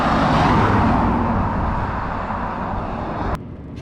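A classic Porsche Carrera GT, some 42 years old, driven on the road: a loud, steady engine drone with broad rumbling noise filling the interior, easing slightly near the end.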